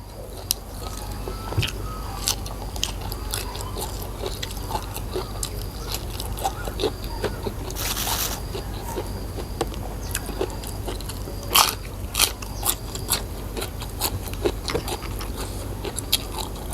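Close, quiet crunchy bites and chewing of spicy chili eaten with Isan sausage and pickled ginger, with scattered sharp bite clicks over a steady low background.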